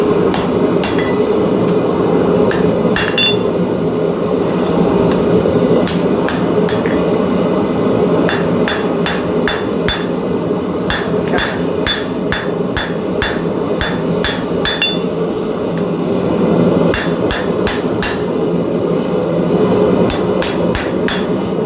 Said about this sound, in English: take my version of Miramore, Thor's hammer, flatten that fucker out as much as